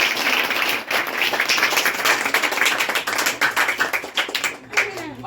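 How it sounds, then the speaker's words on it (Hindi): A crowd claps in sustained applause for a student at a science coaching centre results event, dense and lively, with individual claps audible throughout and tapering slightly near the end. "इनके लिए जोरदार ताली।"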